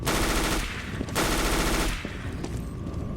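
Rapid automatic gunfire from a Counter-Strike: Global Offensive match between Na`Vi and Mousesports at a LAN final, heard as dense, sustained bursts with short pauses at a moderate level and no voices.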